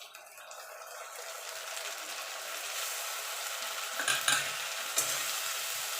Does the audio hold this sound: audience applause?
no